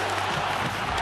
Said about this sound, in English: That really got the crowd rankled.